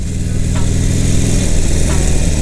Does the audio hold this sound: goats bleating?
no